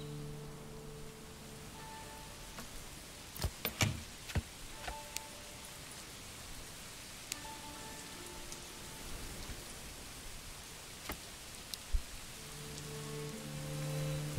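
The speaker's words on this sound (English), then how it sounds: "It's raining again." Steady rain falls in the Manor Lords video game as soft continuous hiss, with a few sharp taps and low ambient tones from the game running under it.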